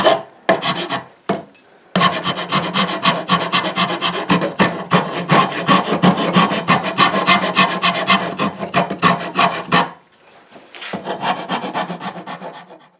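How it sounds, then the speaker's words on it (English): Files and rasps working a wooden flower blossom sculpture, shaping its petals by hand: steady, close rhythmic rasping strokes that run almost continuously, with short pauses near the start and again toward the end. "Using a combination of files and rasps"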